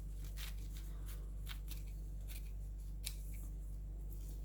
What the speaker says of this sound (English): Cut another strip.